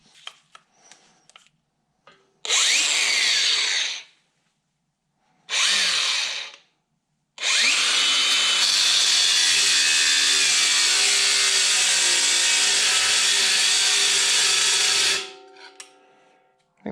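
An angle grinder cuts through a rounded carriage bolt on a John Deere front PTO, loud and close in two short bursts and then one long sustained run of about eight seconds before spinning down.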